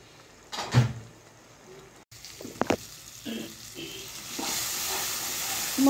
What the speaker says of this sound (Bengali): সামান্য পরিমাণ একটু জল দিয়ে মশলাটাকে কষিয়ে নেব।